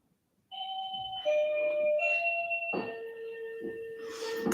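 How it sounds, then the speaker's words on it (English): A doorbell chimes a clear sequence of sustained tones, each new note struck over the fading ring of the last, fairly close and alone in an otherwise quiet room. "I don't know if you can hear the doorbell bringing us back"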